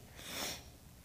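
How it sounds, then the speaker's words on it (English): A person sniffles once while crying at a bar mitzvah, a single close, breathy inhale that swells and fades within a second. "Sorry, I can't stop sniffling."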